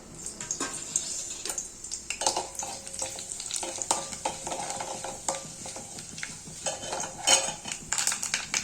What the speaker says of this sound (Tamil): அதில் கடுகு, ஜீரகம், வெந்தயம் கொஞ்சமாக காஞ்சி மிளகா போட்டு தாளிச்சுக்கலாம்.